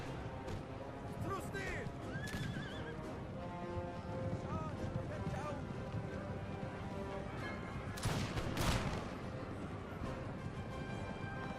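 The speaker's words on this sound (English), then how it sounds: "So here they were shooting at my cav" Muskets and cannon fire across a Napoleon Total War battle on a hill, distant scattered shots and a couple of sharper cracks under steady battlefield din, with someone talking throughout.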